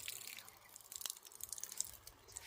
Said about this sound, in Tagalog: Kasi umaapaw yung tubig.